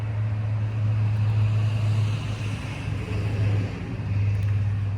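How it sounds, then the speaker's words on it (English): A car rolls past outdoors, its low tyre-and-engine rumble steady and fairly close for a few seconds, swelling slightly and then easing, with no talking over it. "Hang on, car's coming."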